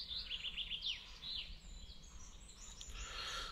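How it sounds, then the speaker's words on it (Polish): Faint, high bird chirps and short trills of a dawn chorus around 4 a.m. repeat over a soft, quiet outdoor hush, with several small calls overlapping. "Ptaszki śpiewają już od 4 nad ranem"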